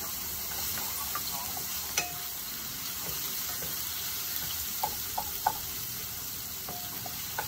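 Garlic and onion sizzle in a pan with a steady frying hiss, while a utensil scrapes and taps against the pan several times as the food is stirred.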